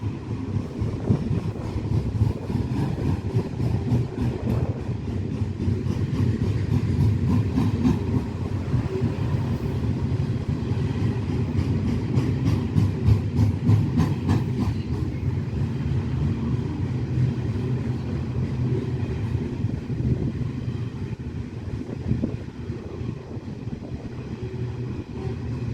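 A loaded Pacific National coal train heading to Newcastle rolls past with a steady low rumble and rhythmic wheel clatter, constant and fairly loud throughout, with some wind noise on the microphone.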